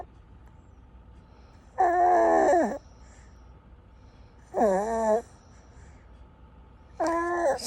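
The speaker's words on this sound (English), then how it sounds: "She's snoring louder than me." A six-month-old baby snores loudly in three drawn-out, rising and falling nasal rasps about every three seconds, close, with quiet pauses between.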